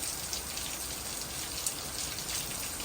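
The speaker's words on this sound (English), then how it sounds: "it is really raining" Heavy rain pours steadily outside, a dense, continuous hiss with no gaps and no voices, loud and close.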